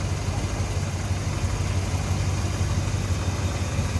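A 440 V8 engine in a 1937 Plymouth sedan street rod idles close by with a deep, steady rumble and an even, continuous throb.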